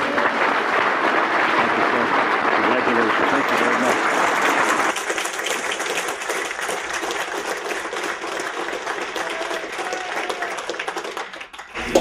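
An audience applauds warmly to welcome an Amateur Hockey Hall of Fame inductee at an induction ceremony, with steady dense clapping for about five seconds before it thins to lighter scattered applause that fades out.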